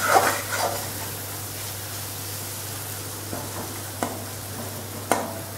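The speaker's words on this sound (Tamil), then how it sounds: "இதை போட்டு ஒரு எல்லாம் சேர்ந்து வதங்குற அளவுக்கு வதக்கினா போதும்" Diced yam cooking in hot oil with spices, stirred in a pan: a steady soft frying hiss runs throughout, broken by a few faint scrapes and clinks of a spoon against the pan, with no talking.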